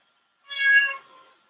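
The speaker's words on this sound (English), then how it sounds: "That's my cat Bender." A domestic cat gives a single clear, close meow that trails off softly, in an otherwise quiet room.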